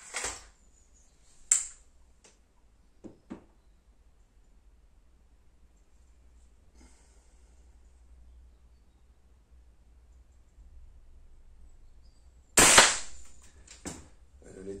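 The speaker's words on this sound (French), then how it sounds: "Je vais faire un dernier petit tir" A Black Ops Sniper Tactical air rifle fires at a chicken cutlet, giving a few sharp, isolated cracks spaced well apart, with one especially loud near shot followed by smaller impacts amid quiet.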